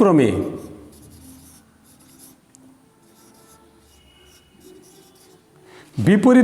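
Chalk or marker scratching out a math formula on a classroom board, a soft continuous rubbing and scraping at moderate distance, with a teacher's voice at the start and end.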